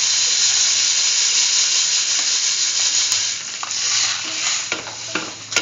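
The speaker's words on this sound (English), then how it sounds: "Mix the sugar with the vermicelli pasta." Sugar is stirred into a vermicelli pasta soup with peach and coconut milk, giving a loud, continuous hissing sizzle and soft liquid swishing with a few light utensil clinks near the end.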